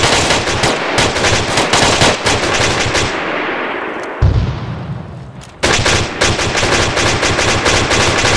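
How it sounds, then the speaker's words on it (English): Sustained bursts of automatic weapons fire in a military co-op shooter, loud and close, with a heavy boom mid-way and a brief lull before the rattling barrage resumes; no talk. "They are all firing at the gas"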